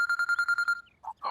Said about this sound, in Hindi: अपू का फोन आ रहा है।